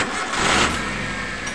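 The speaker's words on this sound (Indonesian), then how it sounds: "Kita coba starter ya." A Suzuki car engine cranks on its starter and catches, a loud, steady, close mechanical churn filling the short moment.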